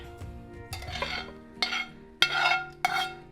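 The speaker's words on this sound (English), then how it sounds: "And then we're gonna fold in our sausage." Sausage is folded into a hashbrown casserole mixture in a bowl with a utensil, giving soft wet squelches and a few sharp clinks of spoon against the bowl, close and fairly quiet.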